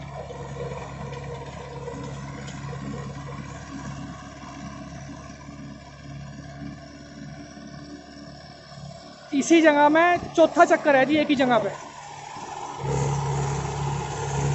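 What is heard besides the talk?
Mahindra 575 XP Plus tractor running a rotavator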